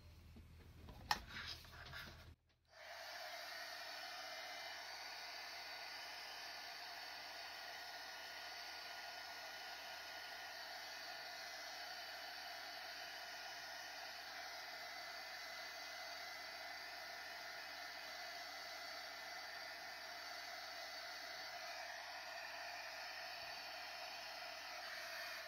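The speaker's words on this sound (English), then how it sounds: "So I'm going to get my heat tool." A craft heat tool blowing hot air, switching on after a short moment of handling noises and then running as a steady, loud, even hiss with no talking.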